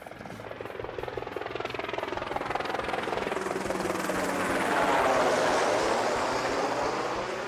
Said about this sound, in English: They must have heard we were fishing today, so they did a little flyover.